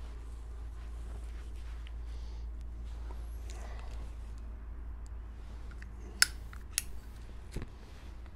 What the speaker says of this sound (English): I'm going to need to cut that wick back a little bit.